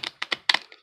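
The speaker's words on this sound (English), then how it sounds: "we're going to do one more shuffle and cut" A deck of cards is shuffled and cut during a card reading: a handful of sharp, papery snaps and riffles in quick, uneven succession, close and isolated.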